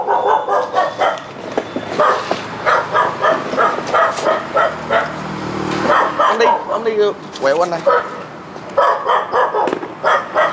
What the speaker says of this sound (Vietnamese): Con chó nó sủa quá